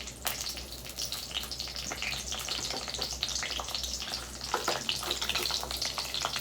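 Chana dal, urad dal and green chillies frying in hot oil for okra fry, a dense steady sizzle and crackle with small pops, close and continuous with no voices.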